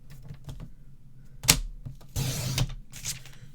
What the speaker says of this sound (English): So now we're going to take one of our pieces, cut this down to 8 1/2,